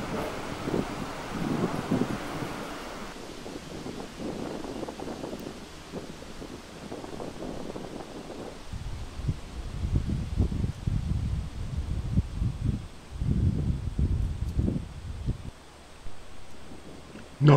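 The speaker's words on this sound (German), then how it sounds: "Heftiger Wind." Steady strong wind on the dunes of Wangerooge island roars against the microphone with gusty low rumbles and rustling, continuous and loud throughout, with no voices.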